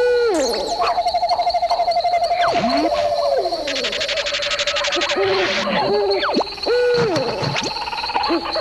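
An animated cartoon owl hoots loudly and repeatedly over a busy bed of cartoon music and sound effects, with squeaky rising and falling calls and no talking.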